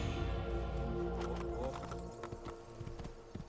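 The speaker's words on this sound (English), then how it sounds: "Let me take this horse." A horse in the Assassin's Creed video game clip-clops along in a quick galloping rhythm, loud and close, slowing to scattered hoof strikes toward the end.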